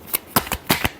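Tarot cards being shuffled by hand in a quick run of about six crisp riffling bursts, close and fairly quiet, with no voice.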